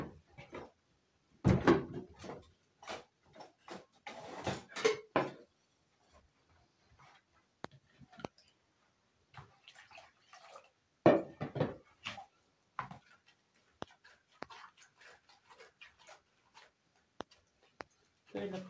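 A spoon clinks against cutlery and kitchen cupboards while strawberry lemonade is being made. The clicks and knocks are short and intermittent, with louder clattering early on, and a person talks between them.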